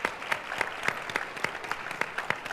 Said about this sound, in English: Could I just hear by a round of applause how beneficial today has been for you?